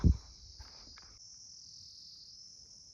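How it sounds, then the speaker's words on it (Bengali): Crickets chirp on a quiet mountain road, a steady high, continuous trill that carries throughout. A single soft thump opens, and faint rustling sounds run beneath the insect chorus. "শুধু ঝিঝি পোকার ডাক"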